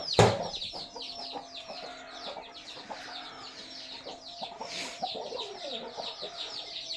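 Hens and roosters cluck and call repeatedly in a poultry breeding section, a busy, moderately close chorus of short bird calls with one sharp loud call at the start.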